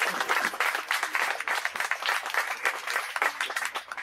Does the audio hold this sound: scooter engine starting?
no